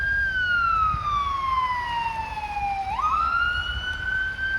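A wailing ambulance siren sweeps slowly down in pitch and then rises again, loud and steady over low traffic rumble on York Mills Road, Toronto, on a snowy day.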